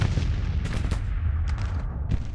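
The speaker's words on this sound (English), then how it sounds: "We have some cannons shooting into random damage." Cannon fire in a computer-game Civil War battle for Richmond: dense, continuous low booming and rumble with overlapping rapid reports throughout, loud and unbroken, no voices.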